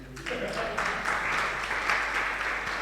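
An audience at a religious discourse claps briefly, a short burst of close, somewhat uneven hand clapping over a low steady hum.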